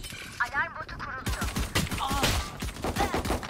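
Valorant gunfire rings out in quick rapid bursts with sharp cracks, mixed with game effects while players chat over it.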